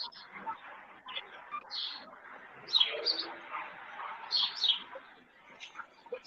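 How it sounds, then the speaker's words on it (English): Birds cooing and chirping nearby in soft, irregular bursts, with people talking quietly in the background. "What kind of birds does freaking Dracula have over there?"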